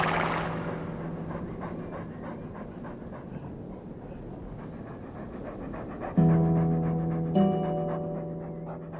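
A dog pants steadily on the grass outdoors, with a mother and children nearby; the breathing runs through the whole stretch, and steady tonal sounds join in during the last few seconds.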